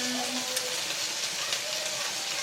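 Sausages and onion fry in a pan with a soft, steady sizzle and crackle, faint and continuous, heard close up with no talking.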